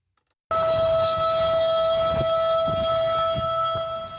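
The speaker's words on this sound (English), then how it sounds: "So that was the warning siren going off on the weekend, notifying residents that they had to evacuate their homes" A civil defense siren sounds a wildfire evacuation warning, a loud sustained wail with steady high tones that starts abruptly after a short silence and holds for several seconds.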